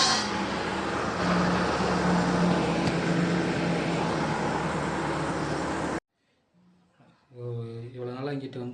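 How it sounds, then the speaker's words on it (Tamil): A cement mixer lorry rumbles past on the road in a broad, loud, steady roar for several seconds, then cuts off, leaving quiet ambience before a person begins speaking. "இப்போ ஒரு வண்டியை பார்த்தீங்களா, லாரி. என்ன லாரி? சிமெண்ட்டு கலவை போடும்ல, அந்த லாரி."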